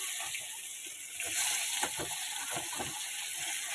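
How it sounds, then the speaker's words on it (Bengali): Fish fries lightly in a pan with a steady, close hiss of sizzling oil, punctuated by brief crackles and faint stirring noises. No voices are heard. "তো হয়ে গেছে মাছ ভাজা"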